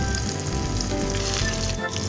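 Chapli kababs frying in hot ghee on a griddle give a steady, close, dense sizzle with crackling spits throughout, no voices.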